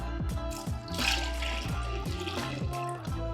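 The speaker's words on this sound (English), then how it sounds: "I'm gonna pour in our milk" Milk pours steadily into a container for crepe batter, a continuous gurgling stream with a rising tone as it fills.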